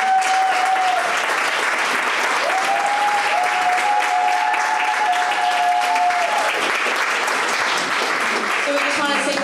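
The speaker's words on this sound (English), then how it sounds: "can we get a round of applause for all the work that Lizzie Haskell has done?" Audience applause at a Wards 2 & 3 neighborhood meeting for Lizzie Haskell, a sustained dense clapping from a room of people lasting nearly ten seconds, with a steady tone running beneath and voices mixing in.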